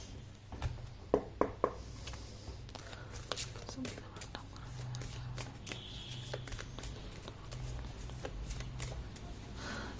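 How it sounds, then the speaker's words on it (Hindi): Mermaid oracle card deck being shuffled by hand, soft papery riffles and scattered taps over a quiet room, with faint background hum throughout. "we will just pull the card from my mermaid deck"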